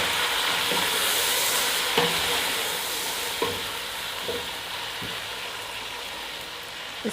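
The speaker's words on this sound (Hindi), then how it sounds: "इसको हम थोड़ी देर भूनेंगे" Tomatoes and chicken pulao ingredients fry in a pan with a steady hissing sizzle, interrupted by a few soft scrapes of stirring.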